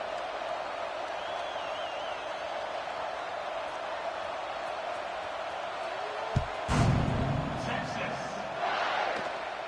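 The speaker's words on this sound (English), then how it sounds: "this crowd is feeling themselves after that last drive" In the College Football 26 video game, a stadium crowd keeps up a steady, dense roar throughout, with a brief louder swell near the end and a commentator's voice talking over it.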